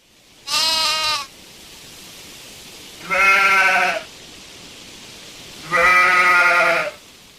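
A goat bleats three times, loud and close, each call a sustained nasal bleat of about a second, separated by quiet pauses over a steady low background.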